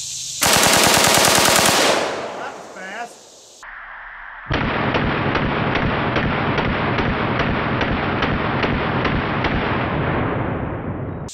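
A full-auto AK-47 fires PMC Bronze 7.62x39 full metal jacket rounds in long, loud, rapid bursts outdoors, with a brief pause between strings of gunfire and a sustained roaring burst that fills most of the stretch.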